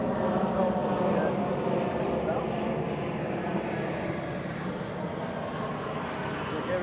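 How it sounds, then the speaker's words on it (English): Distant airplane droning overhead near the Potomac River during a bass fishing outing, a steady broad rumbling hum that holds evenly for several seconds without distinct peaks. "the planes want to start flying"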